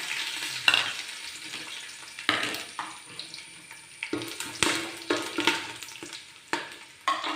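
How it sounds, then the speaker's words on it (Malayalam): Star anise, cinnamon, cloves, cardamom and fennel seeds crackling in hot oil for a biryani, with soft frying hiss broken by repeated sharp pops and stirring clatters, close and alone. "ഒരു ടീസ്പൂൺ പെരിഞ്ചീരകം ഇത്രയിട്ടൊന്ന് മൂപ്പിച്ചെടുക്കാം"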